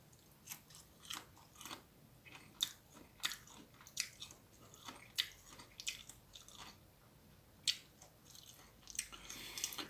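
Eomnamu (castor aralia) shoots being bitten and chewed close up, a string of crisp, wet crunches at an uneven pace with quieter mushy chewing between them.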